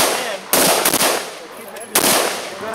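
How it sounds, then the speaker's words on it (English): Gunshots fired at a shooting range, two sharp loud reports about a second and a half apart, each trailing into a short echoing decay. "Put that red dot wherever you want to shoot."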